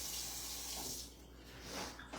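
A kitchen tap runs steadily as hands are rinsed clean during home cooking, a soft continuous splash of water alone, fairly quiet and close.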